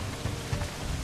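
Steady rain in a video game, a dense, even hiss with low rumbling swells, fairly loud and continuous with no talk over it.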